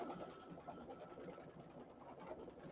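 A Brother Luminaire embroidery machine stitching a flower border, its fast needle chatter forming a steady mechanical hum with a quick even pulse, close and moderately quiet, with no talk.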